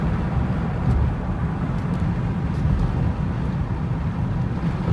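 A 1998 Ford Windstar engine pulling at low revs while driving, a steady, close, broadband drone with deep rumble and road noise running continuously throughout, no talking.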